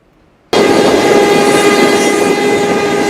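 A passenger train on a railway line in Uganda comes in abruptly and stays loud and close, a sustained roar with a steady horn-like tone running over it to the end.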